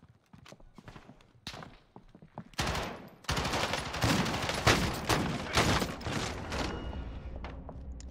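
Bursts of rapid gunfire from a helicopter in the shooter game Warzone, loud clustered volleys rattling in over several seconds after scattered quieter shots, with no talk over them.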